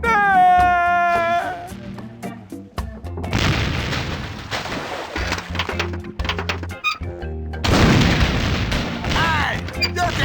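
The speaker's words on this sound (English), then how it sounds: "Hey, it's one of those new self-loading cannons I've heard so much about." Self-loading cannon firing in The Curse of Monkey Island on PC, a series of loud booming blasts with broad rumbling bursts repeating across the clip, mixed with game music and brief voice-like tones at the start.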